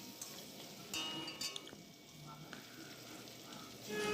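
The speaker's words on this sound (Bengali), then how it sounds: "দেখো টমেটো ও পেঁয়াজ ভেজে নিচ্ছি" Tomato and onion frying in a pan for an egg curry, a soft continuous sizzle with a few light clicks of stirring, steady and close with no talk.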